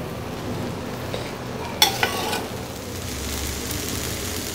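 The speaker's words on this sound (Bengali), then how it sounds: "এখন এগুলোকে সুন্দরভাবে আমি নেড়ে চেড়ে মিক্সড করে নিচ্ছি।" Vegetable fried rice being stirred and mixed in a hot pan, a steady soft sizzle under scraping, with one sharp clink of the utensil against the pan near the middle and a few lighter knocks after it.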